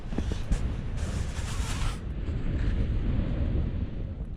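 Strong wind gusts buffet a wild camp on Helvellyn summit, a loud continuous roar of rushing air and microphone buffeting that surges in intensity, no voices.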